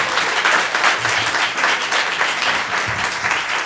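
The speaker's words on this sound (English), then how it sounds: "can we just give one more round of applause for" An audience gives a sustained round of applause after a gallery conversation event, loud dense clapping that stays steady throughout.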